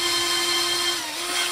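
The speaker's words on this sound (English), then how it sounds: "And I just drill," A power drill bores into wood with a steady, high whirring hum, close up and constant for a brief moment with no voices.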